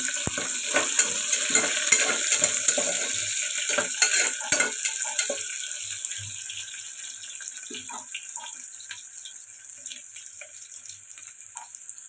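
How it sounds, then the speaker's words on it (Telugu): Onions and curry leaves fry in a pan for a dal and tomato dish, making a steady hissing sizzle with occasional stirring scrapes that eases slightly toward the end. "ఉల్లిపాయలు ఇలా ఫ్రై అవుతున్నాయి కదండి"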